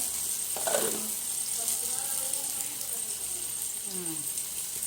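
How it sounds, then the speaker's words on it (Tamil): Masala-marinated fish frying in hot oil in a pan gives a continuous hiss and sizzle with faint crackles, near and steady, with no one speaking over it. "இப்போ எண்ணெயில் போட்டு பொரிச்சு ஃப்ரை பண்ணிடலாமா?"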